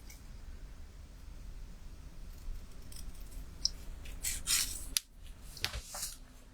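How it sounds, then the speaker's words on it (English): Quiet rustling and crisp snipping of scissors cutting through paper, a few sharp cuts close by against low background hiss. "We've got scissors."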